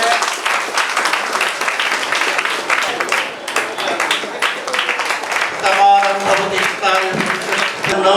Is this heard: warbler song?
no